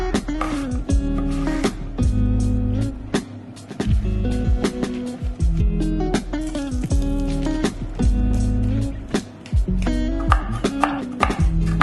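A knife chops peeled pumpkin into cubes on a board, a fast series of crisp, loud thuds at close range in irregular bursts, with a few short pauses as the pieces are gathered.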